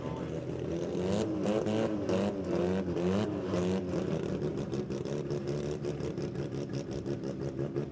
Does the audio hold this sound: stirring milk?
no